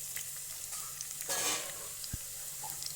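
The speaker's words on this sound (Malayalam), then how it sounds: "അതിലേക്ക് തന്നെ പച്ചമുളക് ഇടുന്നു. രണ്ടും കൂടി പച്ചമണം പോകുന്നവരെ വഴറ്റിക്കൊണ്ടേയിരിക്കുക." Ginger and green chillies sauté in a pan with a soft, fairly quiet sizzle, broken by occasional stirring clinks and a louder scrape near the middle.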